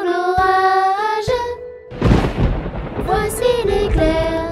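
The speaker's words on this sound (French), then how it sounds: "Entends-tu le tonnerre? Il roule en approchant." Thunder in a French children's song about a shepherdess and an approaching storm, a loud rumbling crash bursting in between sustained musical notes, with the melody continuing over its fading roll.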